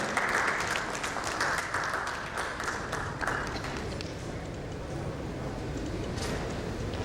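Audience applause at an insurtech conference panel session, a dense wash of many hands clapping steadily for several seconds, with bursts of claps over continuous crowd noise that slowly fades.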